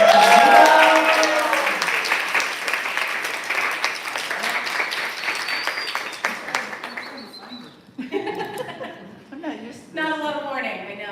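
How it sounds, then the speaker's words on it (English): Audience applause and chuckles at a poetry reading night, loud at first then thinning out over several seconds as a speaker's voice returns over the fading clapping. "so you have to applaud more."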